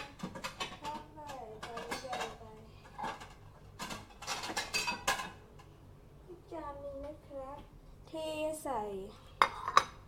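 Plates and dishes clink and knock in a home kitchen while someone searches for a plate, a series of scattered light contacts mixed with frequent nearby talking and a voice.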